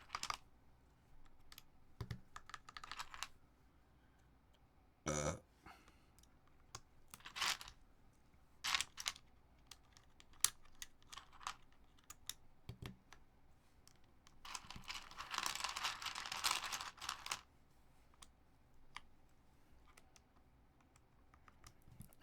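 Plastic CRP R4 keycaps in Desco Black clatter and click as they are dumped out and handled, scattered light taps with a few denser rattling bursts, quiet and close with no talking.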